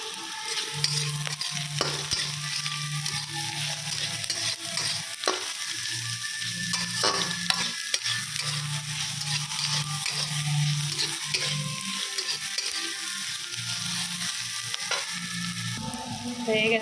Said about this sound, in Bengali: ঢাকা দিয়ে কম আঁচ করে ভাজছি